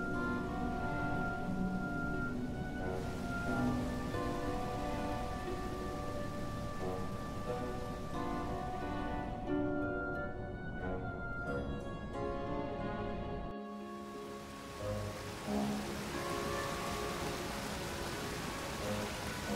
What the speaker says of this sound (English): How is he still alive after that rainstorm?